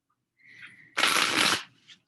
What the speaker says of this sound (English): I hate the sound of the shuffling